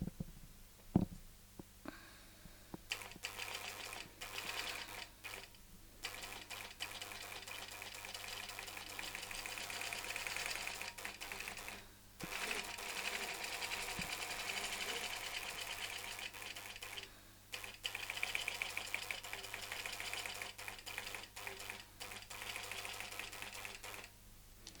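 A longarm quilting sewing machine runs in repeated stitching bursts with short pauses between them as the quilt is rotated, giving a steady rattling hum against a low motor drone and no speech.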